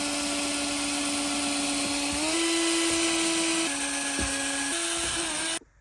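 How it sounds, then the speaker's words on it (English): A power drill boring 3mm pilot holes through plastic for an armrest, a close, steady high-pitched whine whose pitch shifts slightly under load for about five seconds before stopping abruptly. "Dad's going to drill through. So 3mm pilot holes"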